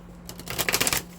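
Oracle deck cards being shuffled, a quick rapid flutter of riffling card edges lasting about a second, close and fairly quiet.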